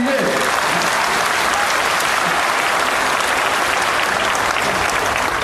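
A large audience at a Dalit rights conference breaks into loud, dense, sustained applause with many hands clapping at once, close and continuous, with voices mixed in.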